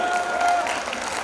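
Brief burst of applause for poet Sunil Vyas at a Hindi kavi sammelan in Mumbai, a dense steady wash of clapping lasting just over a second.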